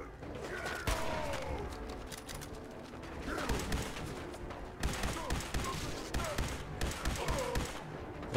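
Rapid gunfire in a Fallout 4 firefight, sharp shots in clustered bursts with thuds and mechanical clatter, moderately loud and fairly close, with no talking over it.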